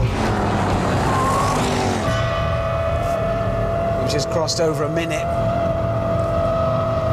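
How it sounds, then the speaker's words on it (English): Range Rover Sport tyres squealing on a race track, a long sustained high whine held over steady engine and road roar, with people talking over it throughout. "That's the longest protracted tyre squeal in the history of tyres and squealing."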